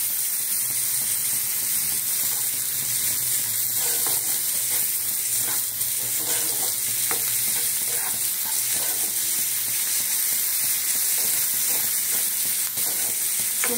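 Paneer sizzles steadily in a hot kadai as salt, turmeric and spices are stirred through it, a continuous bright frying hiss with soft scraping strokes and no talking.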